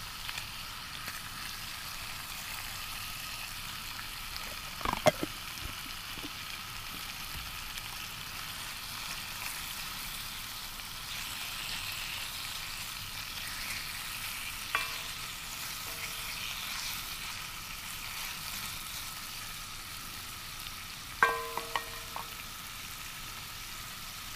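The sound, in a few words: onions and bacon frying in a pan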